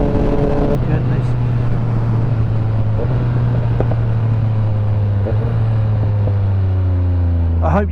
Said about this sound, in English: I hope you can hear those downshifts, the popping.